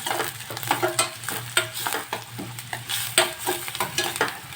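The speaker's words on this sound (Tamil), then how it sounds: "ஆனியன் கொஞ்சம் வதங்கட்டும் இப்போ நம்ம தேவையான அளவு பட்டர் இதில் போட்டுக்கலாம்" Onions sautéing in butter in a pan for pav bhaji masala, a close spoon scraping and knocking in quick irregular strokes over a steady low sizzle.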